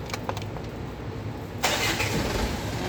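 A motorcycle engine starts up during a brake piston check, a sudden louder burst of broadband engine noise kicking in partway through after quieter workshop sounds.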